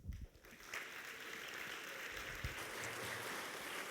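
Sustained audience applause fills a conference hall in Graz at a CYBATHLON brain-computer interface event, a steady dense clapping that begins abruptly and holds at moderate volume throughout.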